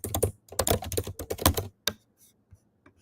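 Rapid bursts of clicking keystrokes rattle on a computer keyboard in quick clusters. Short pauses break the typing, and a few isolated taps follow near the end, close and clear with no talk.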